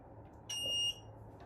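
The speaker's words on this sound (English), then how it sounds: "The beeping you're hearing right now means it's reaching to 10 seconds and it's doing a countdown." Beeping from a home psoriasis light therapy device during its final countdown, heard as a sustained electronic tone of about half a second standing out clearly over a low background hum.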